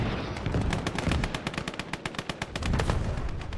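Rapid bursts of gunfire with mortar blasts in the Gates of Hell Ostfront war game, a loud, close string of sharp regular shots over a heavy low rumble, no talk.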